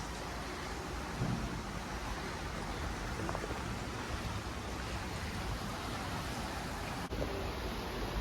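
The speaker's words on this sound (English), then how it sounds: "It started raining here now, looking off the back of the cabin." Steady rain hisses down continuously behind a cabin by a river, a dense even wash of noise with no talking and no breaks.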